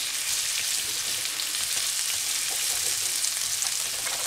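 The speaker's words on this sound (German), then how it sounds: "In das Öl könnt ihr dann zuerst mal eure Zwiebeln geben und auch gleich darauf den Seitan." Seitan pieces and onions frying in coconut oil in a pan, a steady broadband sizzle and crackle that stays loud and continuous throughout, with light scraping of a spatula and no voices.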